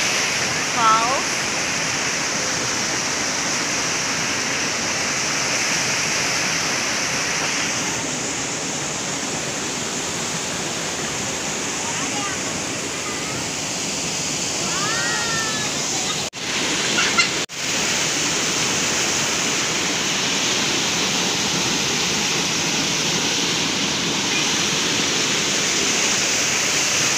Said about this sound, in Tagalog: We're here in Balon Falls in Subic.